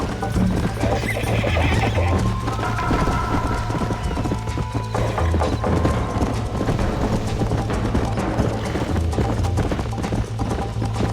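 Horse in the Red Dead Redemption video game neighing and whinnying over steady clip-clop galloping hooves, loud and continuous, with a low droning game soundscape underneath.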